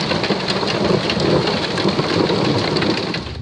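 Heavy rain pours steadily during a thunderstorm in the Somme, France, with a low rolling rumble of thunder from a close lightning strike running underneath throughout; loud and dense, no voices.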